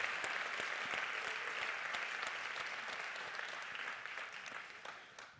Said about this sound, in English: So can I have a round of applause for everybody in the room?